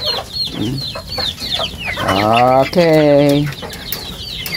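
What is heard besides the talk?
chickens clucking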